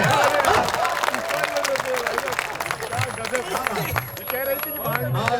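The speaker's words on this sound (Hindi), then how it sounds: "ताली बजाओ यार, क्या बात है।" An audience at a Hindi comedy poetry reading claps and murmurs for the performing poet, with broken applause under crowd noise and a voice speaking over it.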